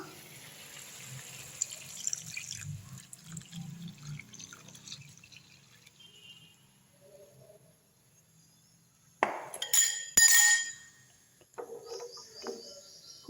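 Stirred liquid for Bombay chutney poured from a vessel into a pan, heard as a brief splashing pour in the middle after quiet kitchen clatter, followed by a few soft clinks.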